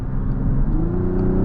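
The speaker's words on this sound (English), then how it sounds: "oh, that engine is so smooth and sweet. It likes to hold gears a little bit longer in sport mode, as you can hear right there" The 340-hp inline-six of a 2024 Mazda CX-90 SUV accelerates in sport mode, a smooth, steady engine hum held in gear with pitch rising gradually, heard from inside the cabin with no talk.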